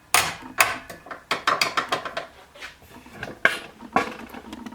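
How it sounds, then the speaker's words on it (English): A shift lever is moved on a Ford C6 automatic transmission during reassembly, and the park pawl gear ratchets and clicks in a quick irregular series of sharp metallic snaps, close and dry, with no talking. "if I move the shift lever, reverse neutral"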